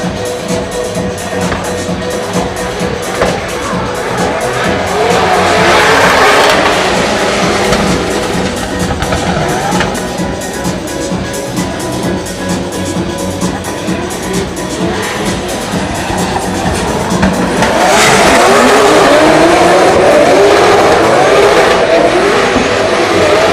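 Drift cars at a live Drift Masters 2026 practice session in Ireland roar with loud, continuous engines and screeching tire squeal, rising to a harsher, fuller surge in the second half.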